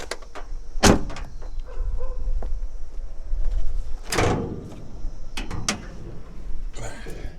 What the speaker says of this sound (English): Open the hood.